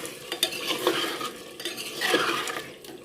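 Boiled potatoes roasting in a pan for aloo palak, with a spoon stirring and scraping against the metal in soft, irregular strokes and a faint sizzle beneath, quiet and close with no talking.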